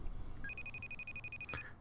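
A telephone rings once, a bright electronic trill lasting about a second over quiet room noise, with a short click as it ends.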